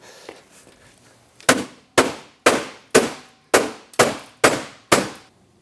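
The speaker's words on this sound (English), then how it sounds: "gonna bang that belly pan out" Eight sharp metallic bangs ring out about every half second as a hammer strikes a Yamaha Enticer 540 snowmobile's belly pan, each hit clanging loudly and decaying quickly, with nobody speaking.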